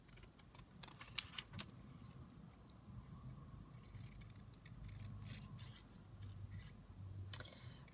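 Scissors snipping out paper banners for a handmade junk journal, a close series of quiet crisp cuts and rustling paper with brief brighter bursts, alone at low level.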